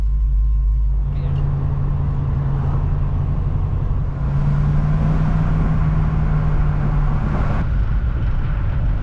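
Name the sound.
car driving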